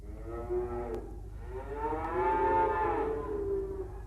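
Matilda the cow gives a long, drawn-out moo with a rising then falling pitch, loud and close, preceded by a shorter call.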